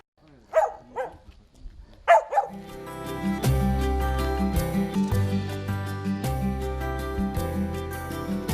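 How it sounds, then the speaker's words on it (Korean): Pungsan dogs bark twice in short, sharp bursts near the start, each a quick cluster of yips, before loud music swells in and continues steadily over the rest of the clip. "남북 정상회담 때 김정은 위원장이 선물한 풍산개들이죠"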